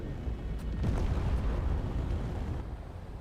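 Missiles strike warships in a space video game, producing a heavy, rumbling explosion blast that swells and rolls on for a few seconds, loud and low, with faint crackling bursts mixed in.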